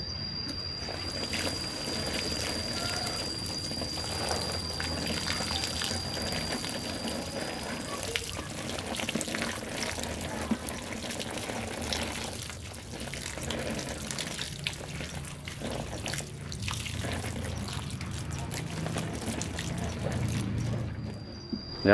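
Water poured steadily over a lantana bonsai pot sitting in a basin during repotting, a continuous close splashing and trickling that runs the whole time with some louder surges toward the end.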